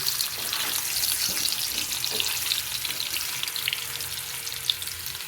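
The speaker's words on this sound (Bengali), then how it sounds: "আলু ভাজা হয়ে গেছে এবারে আমি তুলে নেব" Potatoes coated with turmeric fry in a pan, giving a steady, close sizzle and crackle of hot oil with faint stirring throughout and no talking.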